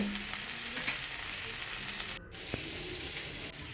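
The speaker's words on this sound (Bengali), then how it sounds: "এরপরে ঢাকনা খুলে আলুটাকে বেশ ভালো করে লাল করে ভেজে নেব" Potatoes frying in a pan with a constant close hiss of sizzling oil, broken by a brief dip and a few small clicks, no voices over it.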